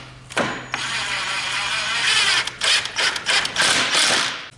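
A handheld drill drives a screw through a dry erase easel board into a wooden brace, a close, loud whirring run that stutters into short bursts as the screw seats, with no talk.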